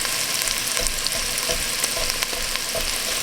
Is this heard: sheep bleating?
no